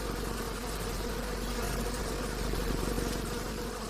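Honey bees defending their hive's honey stores against a raiding moth, a steady dense buzzing drone with a low hum underneath, continuous and fairly loud throughout with no talking.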